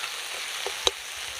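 Dry and green chili paste frying in oil alongside onion, tomato, ginger and garlic for a village-style crab curry, a soft steady sizzle with one sharp clink near the end.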